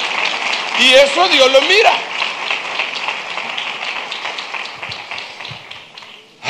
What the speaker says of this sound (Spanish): Denle un aplauso a Rey Bendito.